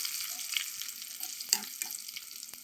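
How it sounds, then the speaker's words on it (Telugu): Tempering of cumin, mustard seeds, dried chillies, garlic, curry leaves and asafoetida crackles in hot oil, a faint steady sizzle with scattered small pops and one sharper crackle in the middle. "కరివేపాకు, ఇంగువ అన్నీ వేసాను. ఇప్పుడు తాలింపు తిరగమూత పెడదాం"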